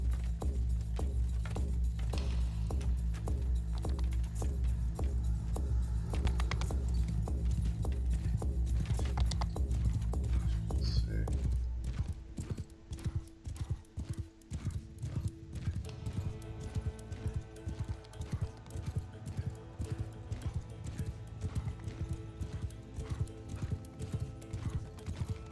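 Horses galloping in Mount & Blade II: Bannerlord, with steady clip-clop hoofbeats running through the whole stretch. Dense battle noise sits underneath, and the drumming changes character partway through, growing more scattered and rhythmic.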